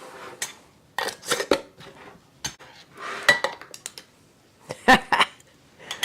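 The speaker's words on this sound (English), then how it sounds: "So now we'll put the lid on." Bursts of sharp metallic clinks and clatter as a metal lid is set onto a glass canning jar of apples, in uneven clusters with quiet gaps between.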